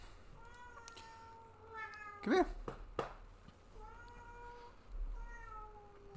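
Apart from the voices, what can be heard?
cat meowing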